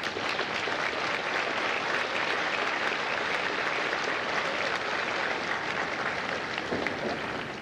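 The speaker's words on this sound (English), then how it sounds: "Please give a round of applause to the families of Kilo Company" Sustained applause from a large crowd carries on evenly for several seconds at a U.S. Marine Corps recruit graduation at MCRD San Diego, honouring the families of Kilo Company.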